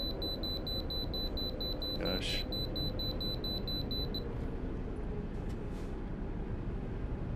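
Repeated high electronic beeps from the speeding warning in Euro Truck Simulator 2 pulse steadily for about four seconds over a continuous low truck-engine drone, then stop; one brief spoken word comes in the middle.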